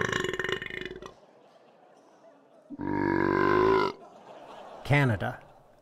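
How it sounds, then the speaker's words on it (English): A squeezed novelty fake banknote lets out a long, loud belch after a stretch of talk, followed by a shorter burp-like sound. "when you squeeze it, it belches."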